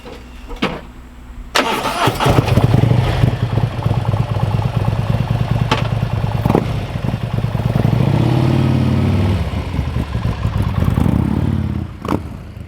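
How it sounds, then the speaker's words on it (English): A Harley-Davidson Street Glide motorcycle engine fires up and rumbles loudly through its exhaust, idling with a deep, steady throb and occasional revs. "it's the same exhaust, but it sounds totally different"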